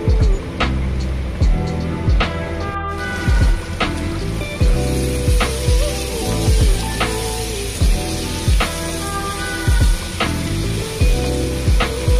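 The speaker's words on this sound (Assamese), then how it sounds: "কচুটোৰ লগত ধুনীয়াকৈ মছলাখিনি ভাজি ল'ম মই" Spices and taro sizzling loudly in hot oil while a spoon scrapes and stirs in a repeated rhythm, close up, without talk.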